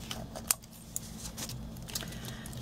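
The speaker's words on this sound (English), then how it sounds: "and then you're just going to trim it off" Scissors trim excess ribbon on a craft snowman candy bar wrapper holder, giving a few faint, sharp snips spaced about half a second apart over a low steady hum.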